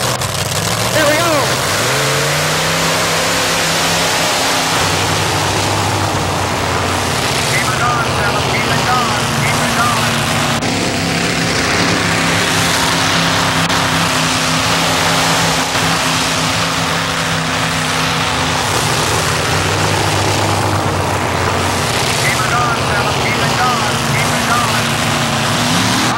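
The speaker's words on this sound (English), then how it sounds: "Philip Jones in his modified dragster twin-engine tractor" A modified twin-engine dragster tractor at a 1987 tractor pull in Fishersville drones and roars steadily while dragging a sled, a loud sustained engine blare with shifting pitch and crowd noise underneath.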